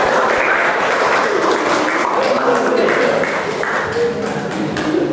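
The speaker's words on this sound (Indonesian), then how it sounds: "Aplaus untuk kelompok 3." A classroom group claps in steady, dense applause for a student team that has just presented, the sound loud and sustained throughout with some voices mixed in.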